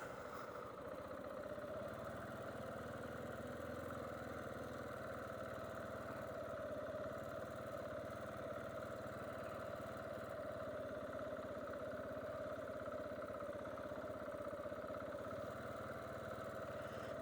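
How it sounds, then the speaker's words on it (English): A 2017 KTM 690 motorcycle engine lugs at very low speed in a parking lot, its steady mid-pitched drone holding continuously at moderate volume with no talking over it. "let's see how slow we can lug this."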